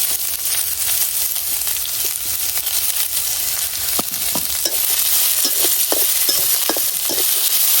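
Garlic and onion frying in hot oil for a lentil dish, a steady bright sizzle throughout with repeated scraping stirs from a spatula, close and fairly loud, no talking.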